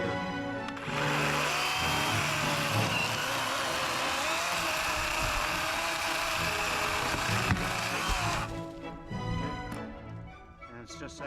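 Worx 40 volt battery chainsaw cutting through a log outdoors: a loud, steady high-pitched motor whine with cutting rasp for about seven seconds, then it stops and winds down.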